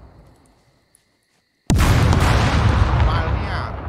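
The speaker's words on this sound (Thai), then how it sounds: "เฟี้ยงระเบิดเข้าเคบินไปก่อน" In the video game SCUM, after a quiet stretch, a thrown grenade explodes inside a cabin with a sudden loud boom, its heavy rumbling roar sustaining and slowly fading over the next two seconds.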